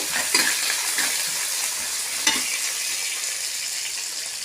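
Onion and garlic frying in a pan for a raw banana stir-fry, a steady close sizzle with a few soft scraping stirs near the start and a sharper clink midway, no talking.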